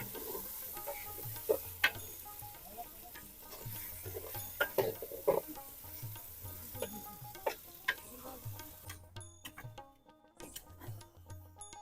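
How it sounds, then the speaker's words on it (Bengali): Meat stirred into fried onion, chilli and spices in a pan, with soft sizzling under repeated scraping and clinking of a spoon against metal, fairly quiet and close, with no talk. "পেঁয়াজ মরিচ মশলা কষানো শেষ এখন মাংস দিয়ে দিচ্ছেন"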